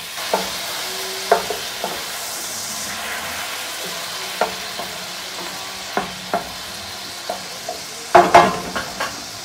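Shrimp and hot pepper frying in a pan as wine goes in, a steady low sizzle punctuated by scattered clinks and scrapes of stirring, with a louder burst of spatter and clatter near the end.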